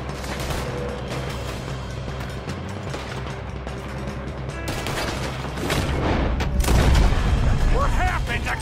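Gunshots crack in the Red Dead Redemption 2 video game during a shootout over a train robbery, scattered reports and booms over game ambience, growing louder and busier toward the end, with voices talking.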